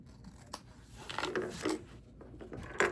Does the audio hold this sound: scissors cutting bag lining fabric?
yes